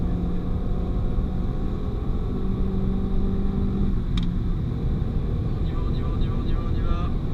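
A Renault Mégane 4 RS at full throttle on the Magny-Cours circuit, a loud constant engine roar and road drone from inside the car, with an instructor talking over it.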